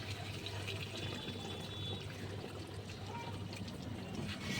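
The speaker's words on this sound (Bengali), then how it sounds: "এবার আমি সব শেষে কমপ্লিট কিন্তু আমি গরম জল দিয়ে দিচ্ছি" Hot water being poured into chicken kosha cooking in a pan, a steady, continuous wash of liquid and bubbling that holds at moderate level for several seconds with no break.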